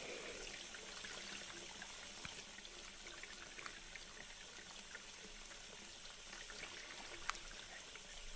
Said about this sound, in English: I'm just going to rinse that all out.